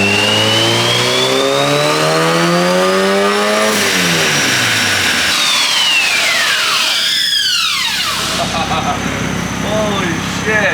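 A turbocharged Honda K-series engine makes a loud full-RPM dyno pull. Its rising wail climbs steadily, breaks off with a sharp shift-like drop and sweeping whines, then settles. A voice is faintly audible under the engine.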